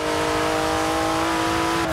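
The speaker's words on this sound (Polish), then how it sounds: "No i dźwięk samochodu jest mocno przeciętny" A car engine in the racing game Forza Horizon 4 holds a loud, steady high-rev drone with a sustained tonal whine, constant and close throughout, with no talking.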